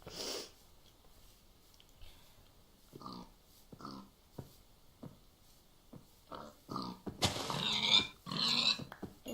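Short pig grunts and snorts from a Minecraft game come in scattered bursts, growing louder and denser toward the end, with no talking.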